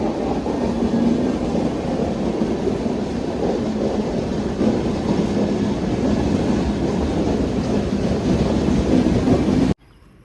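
A train rolls slowly along the main line at Wadakancheri, Kerala, a steady, loud rumble of wheels and wagons lasting about ten seconds before stopping abruptly.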